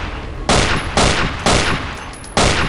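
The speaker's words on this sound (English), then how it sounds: "I'm shooting him in the face." Shotgun blasts from the video game Afraid of Monsters, four loud booming shots spaced roughly half a second apart, each with a short decaying tail, close and dominant with no talk.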